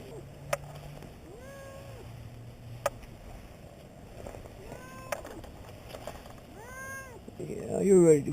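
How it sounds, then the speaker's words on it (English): A cat stuck in a tree meows repeatedly, several clear close-up mews spaced through the clip, with rustling and a person speaking softly nearby. "Here is first-person footage of a person saving a cat in a tree."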